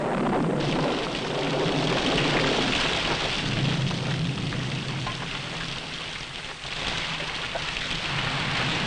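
Heavy rain pours steadily throughout, a dense hiss of drops, with low thunder rumbling underneath and swelling now and then.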